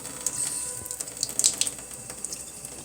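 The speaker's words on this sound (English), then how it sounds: "Get the cold water going." Cold water runs from a kitchen tap into a sink while a roux is being made, a steady close splashing stream with small fluctuations and no talk over it.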